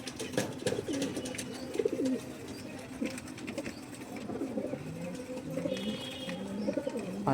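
Pet Malbai pigeons of the chhatriwala type, kept at home, coo repeatedly in overlapping low burbling phrases, close by, with scattered clicks and light knocks around them.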